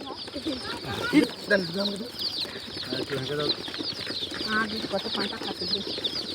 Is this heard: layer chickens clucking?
yes